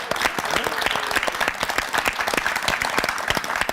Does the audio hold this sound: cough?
no